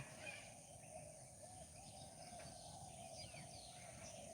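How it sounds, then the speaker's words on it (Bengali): A dove coos steadily in an open field of winter crops, with other small birds chirping faintly around it and no one talking. "একটু কান লাগিয়ে শুনুন ঘুঘু পাখি কেমন ডাক দিচ্ছে"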